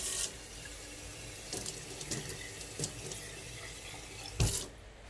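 Water from a kitchen tap running into a glass while cooking pasta, a hissing stream in short bursts with a few splashes and a louder gush near the end, close and with no talking.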